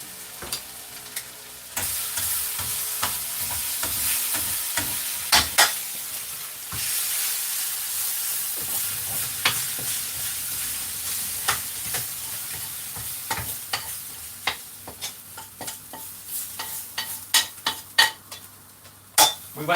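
A meatless stir fry with porkless sausages and caramelised onions frying in a pan, a steady close sizzle broken by repeated scraping stirs and sharp clinks of a utensil on the pan, no talking.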